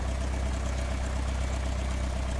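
Aircraft engine idling in Microsoft Flight Simulator X, a steady, even drone with a deep low rumble that holds without change for the whole stretch, with no talking.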